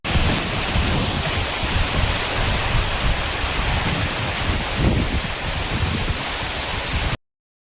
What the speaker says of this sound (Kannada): ಗಾಳಿ ಮಳೆ ಬರ್ತಾ ಉಂಟು.